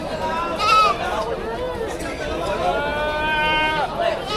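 Goats at a livestock market bleat in short, wavering cries, including two mother goats and a kid, rising above steady crowd chatter and people talking nearby.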